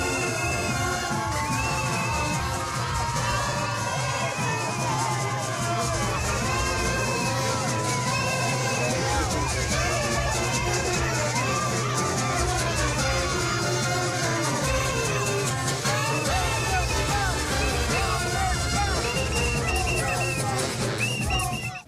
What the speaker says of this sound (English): The beat of the drums, the clapping, and the energy of Junkanoo turned sorrow into a moment of unity